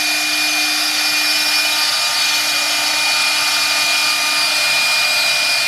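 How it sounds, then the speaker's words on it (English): An inexpensive CNC router bit takes a 1/4 inch deep pass through 1/2 inch plywood, giving a loud, constant high-pitched whine with a steady tonal hum that holds unbroken throughout, with no talking. "a 1/4 inch depth of cut, doing 2 passes, cutting all the way through our 1/2 inch plywood"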